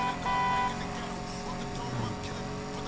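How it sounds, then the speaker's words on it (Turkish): Short car horn honks from the Need for Speed Payback racing game, sounding early and briefly over a dense, continuous mix of game engine and driving noise. "Bu arada korna var oyunda."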